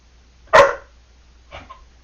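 Little dog barking indoors: one sharp, loud bark up close, then a softer, shorter double bark about a second later, with quiet between.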